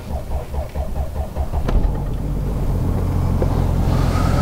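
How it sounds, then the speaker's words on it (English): A car engine cranks slowly on a weakening battery, a chugging rhythmic labour of roughly eight slow turns before it catches and settles into a steady, loud idle rumble. "the car was noticeably much slower starting"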